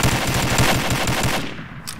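Video game gunfire rattles in a rapid automatic burst of repeated shots, loud and close, then cuts off near the end.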